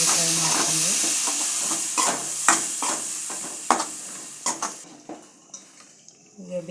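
Masala is fried with garam masala and curd in a pan, a loud sizzle that fades as a spoon repeatedly scrapes and clinks against the pot in irregular strokes.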